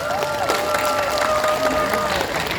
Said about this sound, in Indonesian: Boleh tepuk tangan dulu, nggak apa-apa.